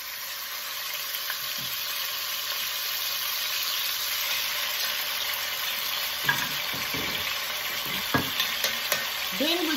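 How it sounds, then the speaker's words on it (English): Beef chuck roast sears in hot oil in a pan for birria tacos, giving a steady, loud sizzle throughout with a few brief stirring or utensil knocks near the end. "Then we're gonna sear them on one side for 7 minutes and on the other side for 7 minutes"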